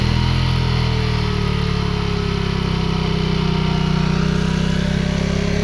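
A motorcycle stuck fast revs continuously while its wheel spins freely, a loud, steady buzzing engine drone that runs unbroken from start to finish with no voices.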